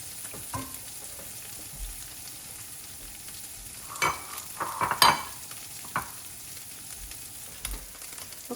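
Ginger, garlic and Spam frying in oil in a pan for pineapple Spam fried rice, a quiet steady sizzle broken by a few louder scraping stirs and clatters near the middle of the clip.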